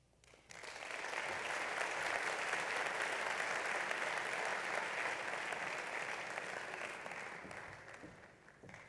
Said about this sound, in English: Let's give these gentlemen another round of applause.